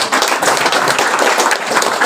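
Loud, close crowd clapping at a gathering of supporters, a dense rapid patter of many hands that continues evenly throughout.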